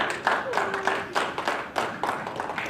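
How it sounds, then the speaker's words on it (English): A small audience at a cosplay convention panel gives a brief round of clapping in uneven bursts, moderate in volume, with a voice briefly heard among it. "please give my lovely assistant Star a little round of applause"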